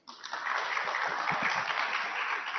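An audience applauds during a studio interview with actor Prakash Raj, a smooth, fairly soft wash of clapping that starts abruptly and holds evenly for a couple of seconds.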